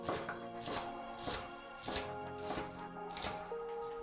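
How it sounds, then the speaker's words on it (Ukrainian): A knife chops onion on a board in spaced, regular strikes, with quiet background music underneath. "Нарізаю цибульку так."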